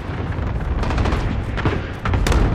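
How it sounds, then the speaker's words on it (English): Cluster strike explosions pound the map in Call of Duty: Modern Warfare multiplayer, a dense loud barrage of rapid booms and cracks rolling together for a couple of seconds with no voices. "Enemy cluster strike incoming! Take cover!"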